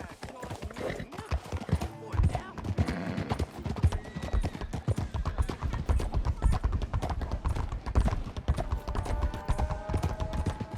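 Horse hooves gallop in a fast, steady clip-clop rhythm in the Red Dead Redemption 2 video game, close and loud, with occasional whinnies, game music and a rider's voice over the hoofbeats.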